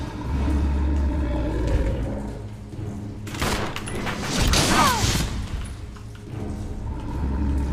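Bursts of gunfire fill a stretch of Resident Evil 0 on hard difficulty, with several shots and heavy thumps over a steady low game rumble and background ambience.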